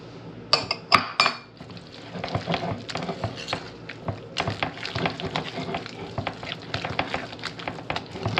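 A utensil stirs Parmesan cheese into a zucchini lasagna mixture in a bowl, with a couple of sharp clinks at first, then steady scraping and tapping strokes close up and without talk.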